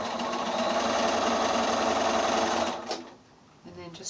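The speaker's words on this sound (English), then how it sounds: "Now I'm going to come back and sew on that other drawn line." A sewing machine stitches quilt pieces along a drawn line, a steady fast mechanical whirr for nearly three seconds before stopping, followed by a few quieter clicks and handling noises.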